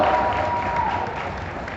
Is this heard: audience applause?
yes